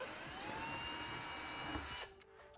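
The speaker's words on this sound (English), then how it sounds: "we're going to use a 1/4-inch drill bit to drill those out." A power drill with a 1/4-inch bit bores holes while installing a Tusk plug-and-play turn signal and horn kit on a Polaris RZR, giving a steady high whine for about two seconds before it winds down.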